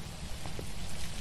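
Steady rain patters in the horror game Welcome to the Game 2, a soft, even wash of drops close by with no talking over it.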